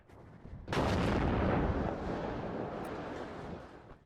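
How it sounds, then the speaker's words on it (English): Artillery fire in the Cold War strategy game WARNO: one heavy distant boom erupts suddenly, then a long rumbling roar slowly fades out. "I'm actually just going to go crazy on artillery here."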